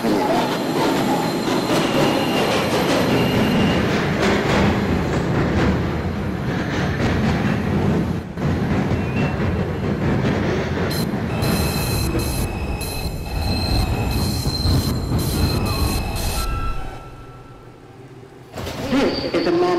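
A Manhattan-bound 2 subway train rumbles loudly into Newkirk Avenue station, its wheels squealing in high, sustained tones over steady rail noise before the roar eases at the end.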